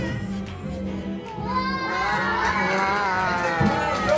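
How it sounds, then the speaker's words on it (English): Pre-K children cheer and shout excitedly after a magic trick at a school show, a bright chorus of young voices swelling from a murmur into loud, sustained group cheering, close and lively. "And the crowd goes wild."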